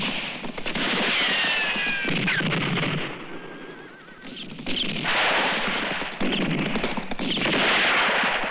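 Gunshots crack out in a western film shootout against a busy mix of horse whinnies, shouting and clattering action, with several sharp loud bursts spread across the scene.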